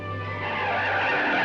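A car brakes hard to a fast stop, tires screeching in one sustained, loud skid that holds steady for about a second and a half.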